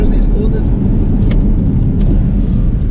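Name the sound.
Porsche Cayman 981 2.7 engine revving at high RPM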